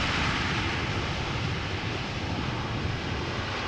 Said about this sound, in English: KLM 777-300 arriving from Willemstad,